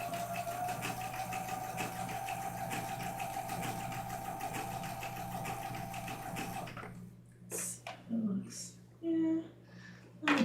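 A sewing machine stitches fabric in a steady whirring, mechanical drone at high speed for about seven seconds, then stops, leaving brief scattered clicks and short bursts of noise.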